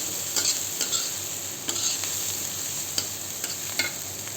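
Fried pakoda being stirred into a sizzling aloo cauliflower curry, with repeated scraping stirs and clinks over a steady frying hiss, close by and with no talking.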